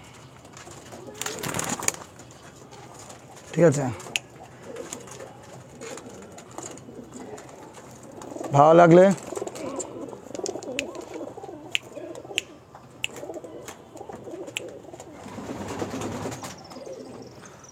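Andhra pigeons from a home loft setup coo in soft, low bursts, with a louder throaty coo around the middle, amid background bird chirps and a person speaking briefly nearby.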